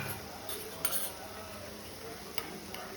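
Chilli powder, coriander powder and spices are mixed into okra for a bhindi fry, with a spoon scraping and clinking against the pan a few times over a steady background hiss, close and fairly quiet.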